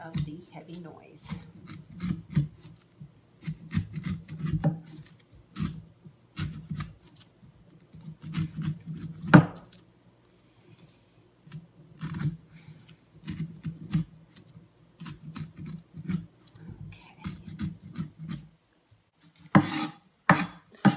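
A hand cleaver shaves the top off a young coconut: repeated scraping, rasping strokes in uneven bursts, close and fairly loud, with a few harder knocks and a short pause before more shaving.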